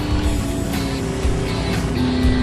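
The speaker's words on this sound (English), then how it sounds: "Oh, she's revving it." A race car engine revs steadily at the track, a continuous low droning roar with a sustained tonal hum throughout, fairly loud and without any talk.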